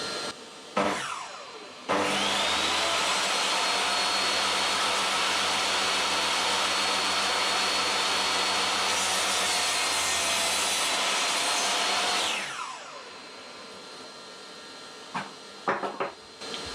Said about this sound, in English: So let's just cut the other one down to size.